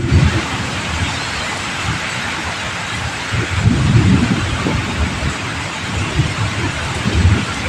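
Heavy rain pours down without pause, a loud, dense wash of noise, while low thunder rolls and rumbles repeatedly underneath.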